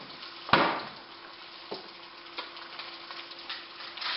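Potatoes frying in olive oil in a pan give a low, steady sizzle with a few soft clicks and taps, including one sharp knock near the start, with no talking.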